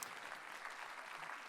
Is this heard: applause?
yes